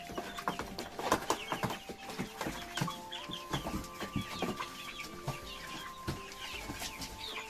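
Chicks being taken out of a box cheep and hens cluck in a busy jumble nearby, with scattered soft knocks and rustling throughout and no one speaking.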